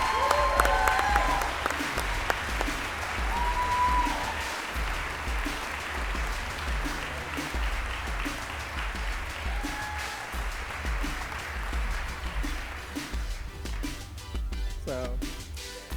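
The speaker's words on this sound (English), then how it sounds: "can we give a huge round of applause for Stuart Ng?" Sustained audience applause fills an awards ceremony hall for concept art, dense clapping holding steady and fairly loud throughout, thinning slightly toward the end.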